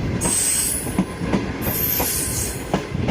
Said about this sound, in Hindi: ये बहावलपुर रेलवे स्टेशन पे एंटर हो गई ट्रेन।